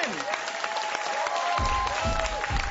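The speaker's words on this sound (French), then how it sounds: "On les applaudit quand même." Studio audience applause on a French-language Quebec TV game show, a dense clapping wash with some crowd noise and musical tones underneath, ending with low thumps.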